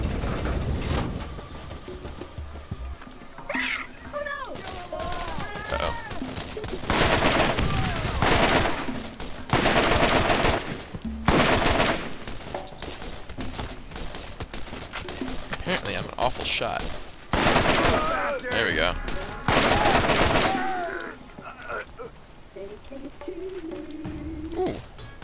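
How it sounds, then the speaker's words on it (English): Gunfire in the video game Borderlands: loud bursts of rapid shots come in several volleys over a steady noisy background, with brief game voices and effects between them. "I hear you shooting over there."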